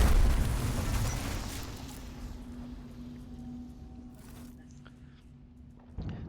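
An explosion in the video game Warhammer 40,000: Rogue Trader: a heavy low boom that opens loud and slowly rumbles away over several seconds, with a faint hum underneath and a small thump at the end.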